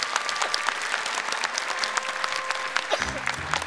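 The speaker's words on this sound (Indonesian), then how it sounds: "tepuk tangan dong untuk bapaknya Aviko" An audience on the Indonesian TV show Hafiz Indonesia 2020 claps steadily for a contestant's father, dense broadband applause throughout, with a low musical tone entering near the end.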